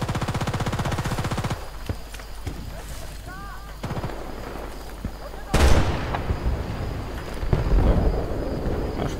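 Automatic gunfire from the video game Battlefield 2: a rapid machine-gun burst at the start, then a sharp loud blast partway through, with a voice talking over the game sounds.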